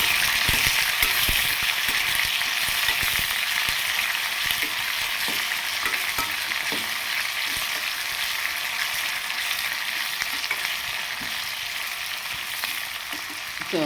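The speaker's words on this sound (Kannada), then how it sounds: "ಸೊ ಇದಿಷ್ಟು ಇವಾಗ ಫ್ರೈ ಮಾಡಿ ಚೆನ್ನಾಗಿ ಆಯಿಲಲ್ಲೇ ಸ್ವಲ್ಪ ಟೈಮು" Onions and peanuts frying in hot oil, a steady dense sizzle with occasional stirring clicks, close and continuous throughout with no talk.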